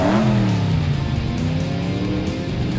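Cartoon car revving hard and speeding away, a loud engine whine climbing then fading as it pulls off, close at first and alone without talk.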